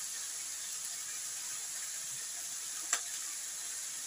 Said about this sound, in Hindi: और हाई फ्लेम पे ही चिकन को भूनना है।